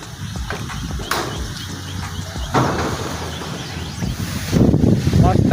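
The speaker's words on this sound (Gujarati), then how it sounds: "જોરદાર પવન ફૂંકાઈ રહ્યો છે" Strong wind blowing by a village lake, buffeting the microphone in loud rumbling gusts that swell toward the end, with people talking now and then.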